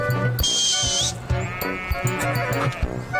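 A herd of goats being driven in the Isparta hills in Türkiye, bleating repeatedly from close by over rustling and a steady background hum.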